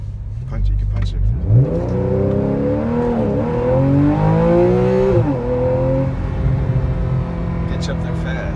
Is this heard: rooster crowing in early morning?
no